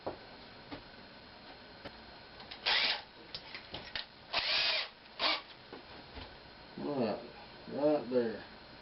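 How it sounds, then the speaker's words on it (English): Power drill boring a center hole into a green wood bowl blank cut from a log, several short whirring bursts separated by pauses and faint ticks, followed by someone talking nearby. "Now, I'm just going to drill that hole right there."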